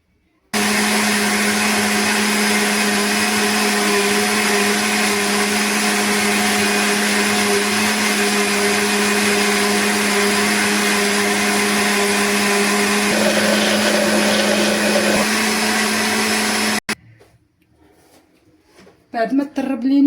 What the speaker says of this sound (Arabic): غادي نديروهم في الخلاط الكهربائي ونخليوه يتميكساو